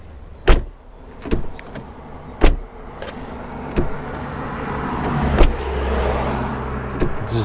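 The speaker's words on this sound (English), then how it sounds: "Now I want you to take a listen to what the BMW 5 Series door sounds like." A BMW 5 Series car door shuts with a solid, heavy thunk, followed by several more closing thuds and clicks spaced a second or so apart, close by and alone.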